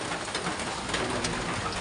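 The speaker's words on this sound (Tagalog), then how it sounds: "Malakas ng ulan." Heavy rain pours down in a dense, even hiss of drops striking surfaces, steady and close throughout with no voices.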